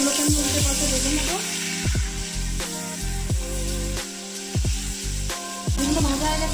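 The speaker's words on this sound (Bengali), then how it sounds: "মাছগুলোকে আমি উল্টে পাল্টে ভেজে নেব।" Koi fish fry in hot mustard oil in a kadai, a constant bright sizzle broken by repeated clinks and scrapes as the pieces are turned, with a low background hum beneath.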